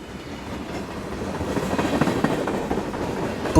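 A cartoon steam train hauls goods wagons through the mountains, a steady rolling rumble with rhythmic clickety-clack from the wheels, growing slightly louder toward the end.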